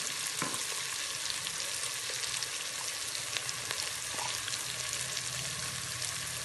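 Mixed ingredients for gobhi gosht frying in a pan, a steady, moderately quiet sizzle with a few faint stirring knocks.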